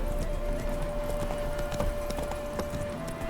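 Hooves of Roach, a horse in The Witcher 3, clip-clop steadily at a close, even pace over a constant low ambient bed with a faint tonal drone.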